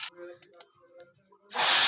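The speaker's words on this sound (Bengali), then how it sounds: "আর এই যে কড়াই এগুলো দিয়ে ভেজে নিচ্ছিলাম" Food frying in a hot kadai (wok) on a home stove, a loud steady sizzling hiss that bursts in suddenly after a quiet moment and carries on to the end.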